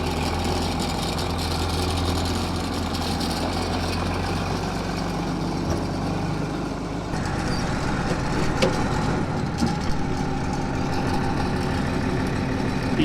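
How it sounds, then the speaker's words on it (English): A tractor engine idles on a dairy farm with a steady, heavy low rumble that holds for the full stretch, then shifts to a rougher, slightly louder chug near the end. "So let's go get the other tractor."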